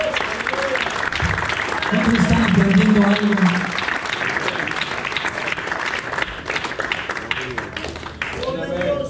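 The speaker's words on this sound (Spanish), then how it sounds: "Démosle un fuerte aplauso al Señor." A church congregation breaks into loud, sustained applause during a sermon, the dense clapping continuing while a preacher speaks over it.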